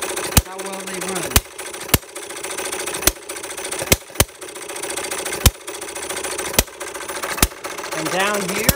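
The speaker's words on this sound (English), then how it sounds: "I always like to show how, when I'm finished with my engines, how well they run" A Perkins vertical side shaft hit-and-miss model engine runs steadily, a sharp firing bang every second or so over a continuous mechanical whir, close and loud, with a person speaking briefly near the end.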